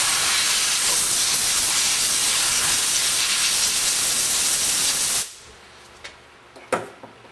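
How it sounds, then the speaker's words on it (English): Compressed air blasts a cleaned Meyer E 47 microphone part dry in a loud, steady hiss lasting about five seconds, then cuts off, leaving a few faint clicks and handling noises. "Blow it dry."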